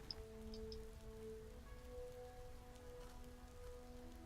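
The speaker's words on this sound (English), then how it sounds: "It's raining, so it must be." Rain falls outdoors in a faint, steady patter of drops on surfaces, with a soft background hum and no talking.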